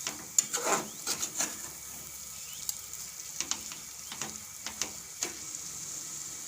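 A mung dal ladoo mixture roasts slowly in a pan over a low flame, a steady faint sizzle broken by repeated light scraping and stirring clicks.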